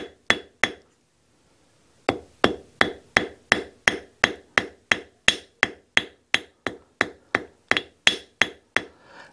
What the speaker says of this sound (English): switch to the cross peen and get a nice wide spread on the wire